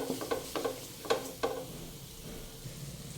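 Mixed seafood with ginger frying in butter in a pan is mixed with a spatula, giving several quick scraping strokes early on over a soft, low sizzle that continues alone, fairly quiet and close.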